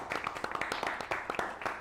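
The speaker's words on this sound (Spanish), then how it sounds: "un aplauso" Podcast studio audience clapping to welcome a guest, a brief patter of several hands at moderate distance, steady and without cheering.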